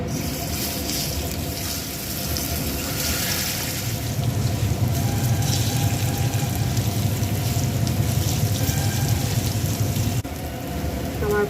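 Steady, close sizzling and crackling of sliced potatoes and bottle gourd leaves frying in hot oil, continuous throughout and growing a little louder partway through.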